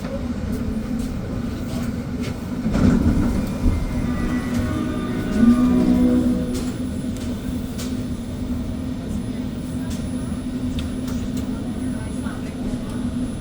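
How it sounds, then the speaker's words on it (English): A REM light rail train in Montreal rides the A3 Anse-à-l'Orme branch between Bois-Franc and Anse-à-l'Orme, a steady low interior rumble with a swell of louder wheel and track noise midway, heard from inside the car. "this train line that we're on used to actually be a freight train spur at one point"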